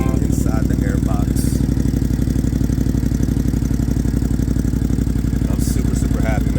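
A motorcycle engine, just repaired of an airbox ticking and a one-cylinder misfire, idles with a steady, even, loud throb up close while someone talks over it.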